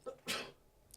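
A single sharp sneeze, preceded by a quick intake of breath, close and fairly quiet.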